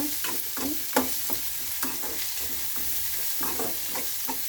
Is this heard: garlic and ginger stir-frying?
yes